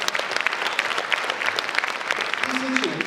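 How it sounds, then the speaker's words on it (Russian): Loud, dense applause from a crowd at a university student spring gala concert, a steady wash of clapping throughout, with a faint sustained tone creeping in near the end. "Мы на вас смотрим, и мы вам аплодируем, дарим эти громкие аплодисменты."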